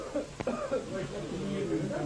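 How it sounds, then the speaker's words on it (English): Hippies in 1970s Nepal cough with a rough, rasping sound while passing a wooden chillum of strong local product mixed with tobacco. One sharp cough bursts out early, then rougher throat sounds follow at moderate, close level. "Only rasping coughs break the peaceful silence."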